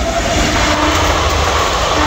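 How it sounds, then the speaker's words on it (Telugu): A goods train rolls past a railway platform, a loud, steady rumble of wheels and wagons that fills the whole stretch without a break. "సో ఇదైతే గూడ్స్ ట్రైన్"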